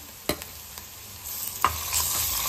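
Ginger garlic paste sautés in a pan with a steady sizzle, broken by a few sharp clinks and scrapes of a spoon stirring, close and without talk.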